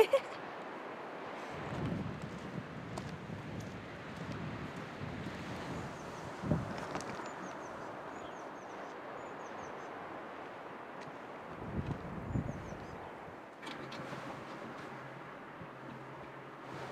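Steady strong wind buffeting on a very windy day, a continuous rushing roar with gusty microphone rumble throughout, occasional low thumps, no voices over it.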